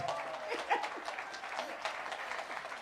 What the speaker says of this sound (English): I just want to have an opportunity to give you a round of applause